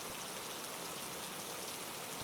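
Steady, even rain hisses continuously as a soft, dense wash of drops without pauses, fairly faint and with no voices.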